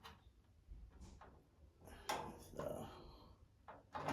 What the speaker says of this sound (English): slide these guys out. And you're going to install your drawer